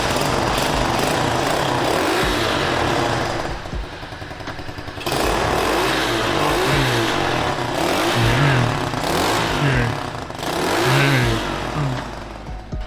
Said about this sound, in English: If it struggles, you can give it a bit of throttle.